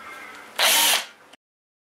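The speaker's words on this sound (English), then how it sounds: "I'm just going to put four rivets on each side to hold it" Rivets being set into aluminium for a 4WD fridge slide, with a steady tool whir that swells into one loud, sharp burst of about half a second, then eases off and stops dead.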